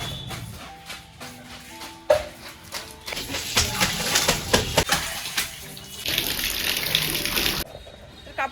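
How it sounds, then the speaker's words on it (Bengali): Clothes being washed by hand under running water, a steady splashing gush that grows fuller and louder midway, with wringing and slapping sounds scattered throughout and no voices. "বুনু তো কাপড় ধোয়া শুরু করে দিয়েছে"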